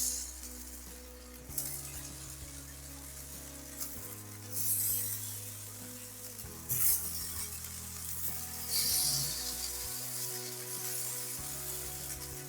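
Marinated vegetables such as capsicum and onion frying in ghee on a hot tava, a steady loud sizzle throughout with occasional clinks and bursts of louder spitting as pieces are turned.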